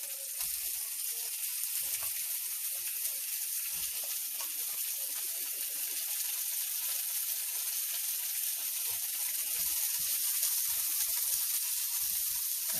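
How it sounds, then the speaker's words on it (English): Onions sizzle in a pan over high heat, a steady close broadband hiss with faint crackles and pops running throughout, unbroken and without voices. "I'm going to saute my onions,"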